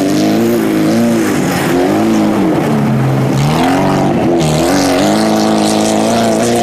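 Race cars at a city autocross championship in Novy Urengoy, old Soviet cars on a difficult track, with loud continuous engine roar and shifting revving pitch as they accelerate and rise and fall, filling the whole stretch.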